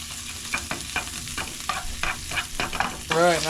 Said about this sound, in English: and I stir.